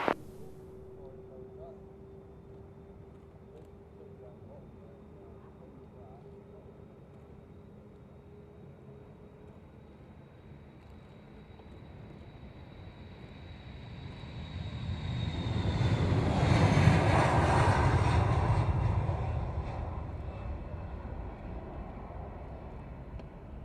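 Military jet designated Hog 95 taking off from runway 27 at the Royal International Air Tattoo, a distant whine building into a broad roaring rush that peaks and slowly fades.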